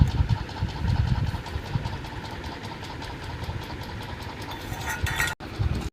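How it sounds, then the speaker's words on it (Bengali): Liver being ground into paste for Bengali kalija bhorta gives a steady droning motor hum with a rough, pulsing texture, close and alone, cutting out abruptly near the end. "এখন কালিজা বাটছি"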